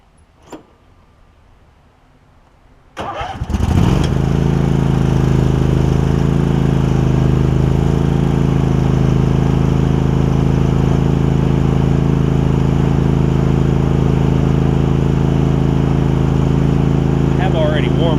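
A Craftsman garden tractor's small engine cranks and catches after about three seconds of quiet, then runs loud and steady close by, its drone holding even to the end.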